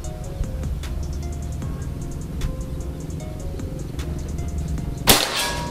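One sharp, loud report from a PCP Predator slug-barrel air rifle lands near the end, followed by a brief ring, over a constant low background hum.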